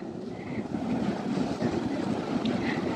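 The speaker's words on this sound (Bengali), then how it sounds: "সমুদ্রের আওয়াজ কি শোনা যাচ্ছে?" Sea waves at Niladri Beach in Puri, a broad steady wash of surf mixed with wind rumble on the microphone, continuous and fairly loud without speech.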